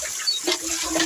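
Water gushing steadily from a freshly drilled borewell, a continuous rushing splash heard close up on its own.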